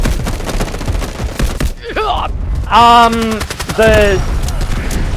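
Bursts of gunfire in the shooter game Delta Force crackle in rapid strings of short cracks, loud and close, with a brief groaning sound between the volleys.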